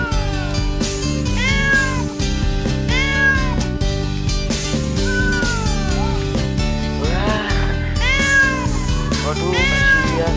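A small kitten meows over and over, loud and close, with rising and falling cries in quick succession and no talk.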